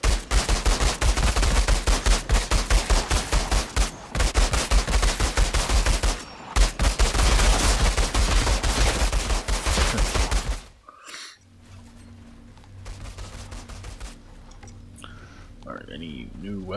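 Pistol gunfire in a video game, a rapid, loud barrage of shots packed closely together for about ten seconds with a short break, then an abrupt drop to quiet ambient hum and a few faint sounds.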